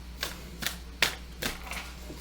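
A series of soft, crisp tarot card riffles and taps, about five in a row, close by and fairly quiet against a low background hum.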